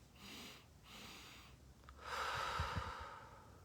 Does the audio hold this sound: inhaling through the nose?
yes